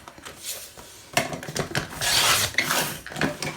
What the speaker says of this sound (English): So that tab bit that we would normally glue down, I'm going to trim that off there.